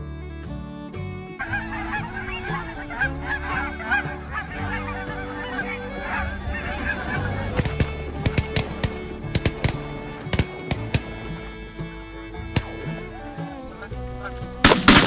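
A flock of Canada geese honking loudly and continuously, overlapping calls with some sharp bangs and knocks breaking in toward the end.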